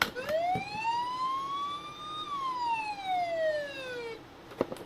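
A single electronic siren wail from a Matchbox toy police car, rising then falling, thin and tinny, with small clicks at the start and end.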